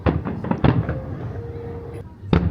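Distant fireworks at a Minato Mirai fireworks festival in Yokohama, heard from a hotel rooftop, pop and boom in a few scattered bursts, with faint crowd noise in between.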